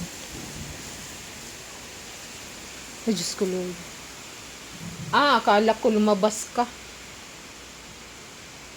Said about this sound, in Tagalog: lakas ng ulan guys uy at saka ano may hangin